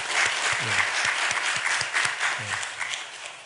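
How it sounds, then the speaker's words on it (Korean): A church congregation at a Sunday service claps in welcome, a dense, steady burst of applause filling the room for several seconds. "박수로 환영하겠습니다."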